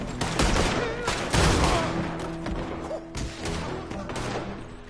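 Rapid gunfire rings out in the video game Red Dead Redemption 2, a dense burst of close, loud shots rattling almost continuously, with faint talk mixed in.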